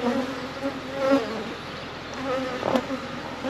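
Steady, dense buzzing of a full hive box of bees close by, a continuous hum that swells and dips slightly with no voices.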